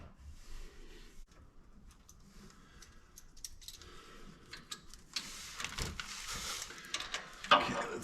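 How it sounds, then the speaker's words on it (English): A ratchet and socket work loose the oil drain plug under a Hummer H2, quiet clicking and metallic fiddling at first, then a louder flurry of rapid ratchet clicks and clanks toward the end. "let's get this socket on here and get this drain plug out"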